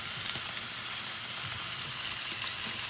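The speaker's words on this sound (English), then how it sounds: "the bacon's frying really nice" Steady, dense crackling and hissing of bacon frying in a pan, close and continuous with no voices.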